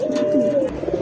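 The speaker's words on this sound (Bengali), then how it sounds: "রেড চেকার রেসার কবুতর দেখতেই পাচ্ছেন দর্শক" A red checker racer pigeon coos up close, a sustained low throaty note with a wavering inflection, followed by softer murmuring.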